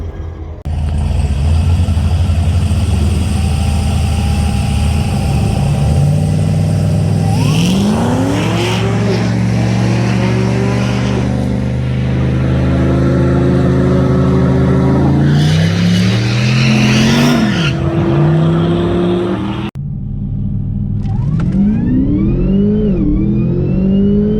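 A race car on a test run roars at full volume, its engine revving and shifting up through gears in rising whines, easing briefly, then climbing again before cutting back near the end; loud, close and continuous.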